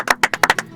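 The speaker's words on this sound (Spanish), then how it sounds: "Un aplauso grande." Quick, close applause at a Bariloche community talk program: about six sharp, distinct claps in a loose rhythm, loud and dry, with no voices over them.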